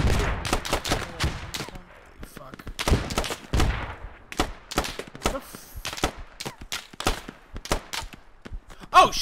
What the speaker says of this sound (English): that sounded like an AK